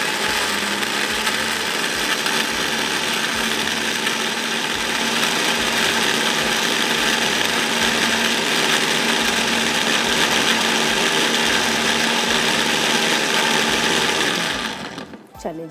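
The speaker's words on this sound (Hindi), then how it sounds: "ये अब पिसा हुआ मसाला जाएगा जिसको मैं अभी पीसूँगी।" Electric spice grinder whirring steadily and loudly as it pulverizes whole garam masala with cinnamon and cardamom, a continuous motor drone lasting about fourteen seconds before cutting off abruptly.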